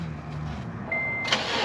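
A supercharged Honda Civic engine runs steadily at idle, with a thin high supercharger whine rising partway through over the low engine hum, fairly quiet and with no talk.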